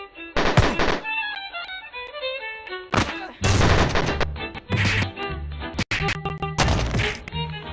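Gunshots and impacts in the flash game Madness Genesis, with sharp loud bursts, rapid fire and thwacks breaking over a tonal game soundtrack.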